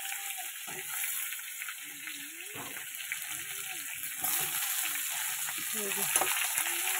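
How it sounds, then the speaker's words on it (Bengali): Potatoes and pointed gourd fry in oil in a pan, giving a steady close sizzle throughout, with faint stirring scrapes and a soft voice murmuring now and then. "এবার হচ্ছে আলু আর পটলগুলো ভালো করে ভেজে ভেজে নেব।"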